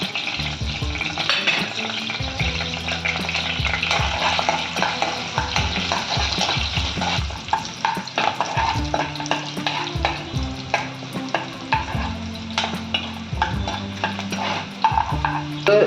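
Garlic and green chili fry in hot oil and ghee, a loud, steady sizzle broken by repeated clinks and scrapes of a spoon stirring in the pan, with no talking.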